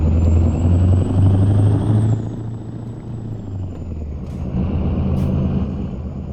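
A Mack truck drives in the American Truck Simulator game, giving a steady, loud, low engine drone that runs continuously, with brief faint higher hisses near the end.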